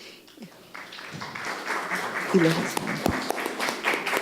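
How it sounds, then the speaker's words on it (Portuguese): An audience claps at an evening conference on fiction literature as a speaker is welcomed; the applause swells gradually under a voice. "Entonces les damos un fuerte aplauso"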